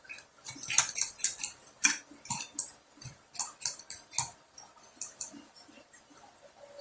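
A utensil scrapes and clicks against a bowl while seasoning is stirred into guacamole, a close, quiet series of irregular taps and scrapes with no talking.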